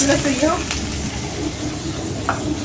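Chickpeas and onion frying in a pan, a steady low sizzle with stirring scrapes, while a voice briefly speaks near the start over the cooking noise.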